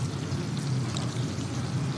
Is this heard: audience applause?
no